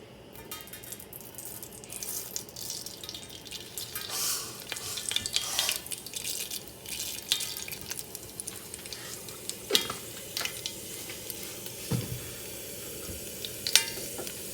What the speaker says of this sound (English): When that oil is hot, we can put the mustard seeds.